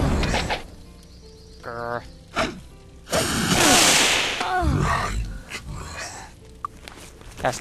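A fireball spell cast in the Might and Magic VI game gives a loud rushing whoosh that builds into a fiery blast lasting about a second, among other short game effects and thumps, with a person talking over parts of it.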